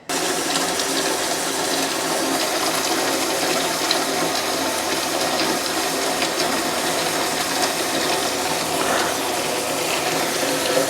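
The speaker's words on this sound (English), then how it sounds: "I'm going to go ahead and wash up my jars in hot soapy water" Canning jars being washed by hand in hot soapy water at a kitchen sink, with steady running and splashing water and clinking glass, loud and close throughout and without talk.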